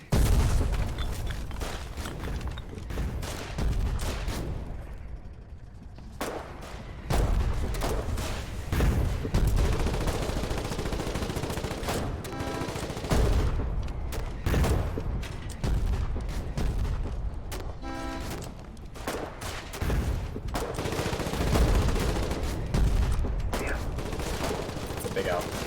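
Gunfire and explosions from the video game Foxhole during colonial frontline fighting, with dense volleys and booms rolling almost continuously under voices talking.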